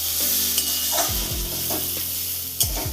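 Pasta with chili being stirred in a frying pan, a bright close sizzle broken by short scraping strokes of the utensil and a couple of louder knocks.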